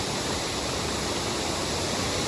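Cascade Falls, a waterfall in the Finger Lakes, roars as a steady, even rush of falling water, loud and close throughout with no voices.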